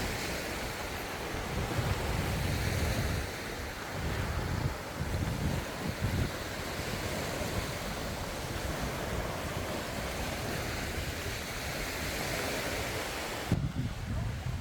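Surf rolls in at Haad Yao beach on Koh Phangan, Thailand, a broad, steady wash of waves mixed with wind buffeting the microphone and a voice talking.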